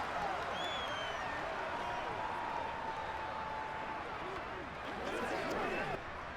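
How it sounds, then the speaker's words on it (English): A stadium crowd roars and applauds throughout a Madden 23 game between the Tennessee Titans and Kansas City Chiefs. The crowd noise is steady and broad, with a commentator's voice running faintly underneath. "How about some applause for the defense there?"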